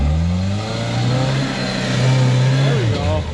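Jeep engine revving steadily on an off-road trail hill climb, a close, loud, sustained mid-pitched growl that rises and holds, then dips near the end.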